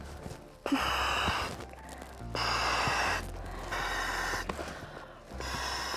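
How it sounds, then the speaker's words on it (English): Mouth blowing air in strong breaths into the oral inflation valve of an inflatable PFD, four long puffs separated by short pauses, close and loud with no talking. "Take off the cap and blow into the valve."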